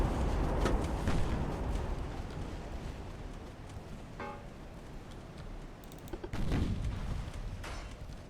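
Small naval guns in Ultimate Admiral: Dreadnoughts fire amid a rumbling battle din, with a few sharp booming reports standing out over broad low roar, moderately loud and without talk.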